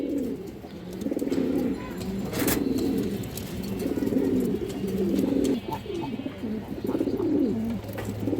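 A female Kalibaga pigeon coos steadily in repeated low, throaty phrases, close and clear against faint background noise.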